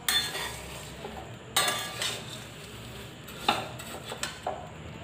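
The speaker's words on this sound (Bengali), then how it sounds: "এর মধ্যে কিন্তু কোনো অয়েল নেই, কিচ্ছুই নেই, জাস্ট কাঠখোলে চিড়েটাকে ভাজছি।" Flattened rice dry-roasted in a pan with no oil, stirred with a utensil that scrapes and clinks against the metal in a few sharp bursts over a faint steady rustle, close by.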